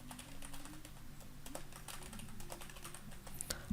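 Steady, quiet clatter of fingers typing on a computer keyboard, with quick, irregular keystrokes running continuously over a low background hum.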